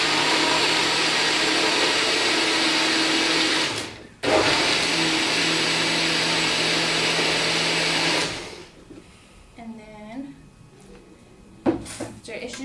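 A countertop blender whirs loudly and steadily while mixing avocado and spinach, pausing briefly once before running again, then stopping as a voice speaks over quieter room sounds.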